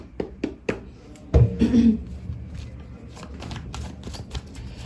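Tarot cards being shuffled by hand during a reading, with a few quick taps followed by a short burst of riffling and softer card rustles, close and fairly clear.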